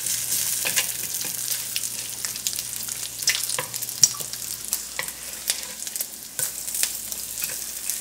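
Food frying in bacon grease in a pan, a continuous crackling sizzle with scattered sharp pops and light stirring, close and clear, no speech.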